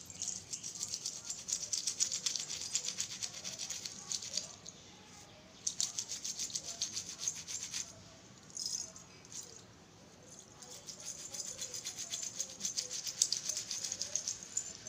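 A brush scrubs a silver anklet coated in paste, giving steady close scratchy rasping strokes in long bursts with brief pauses between them.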